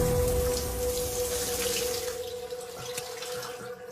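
Water runs steadily from a shower while a man bathes, a continuous broadband hiss with a faint tonal hum underneath, close and fairly loud throughout, no voices.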